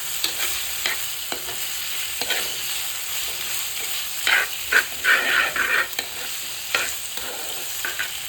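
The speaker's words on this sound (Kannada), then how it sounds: "ಬಾಡಿದ್ಮೇಲೆ ಚೆನ್ನಾಗಿ ಫ್ರೈ ಆಗಿದೆ. ಮಿಕ್ಸ್ ಮಾಡ್ಕೋತೀವಿ ಚೆನ್ನಾಗಿ." Crab curry mixture being stirred in a frying pan, with a steady sizzle under repeated scraping stirs and a louder burst of frying in the middle; no talking.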